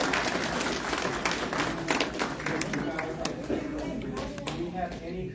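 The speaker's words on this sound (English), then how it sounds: "let's go ahead and give them a big round of applause" Applause from the audience at a naturalization citizenship ceremony, a dense steady clapping that holds at an even level for several seconds with a murmur of voices underneath.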